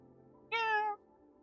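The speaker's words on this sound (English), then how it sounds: "And then this adorable cat meow right at the end." A single cat meow, clear and close, rises and fades in under half a second inside a PS5 game trailer, standing alone against quiet background.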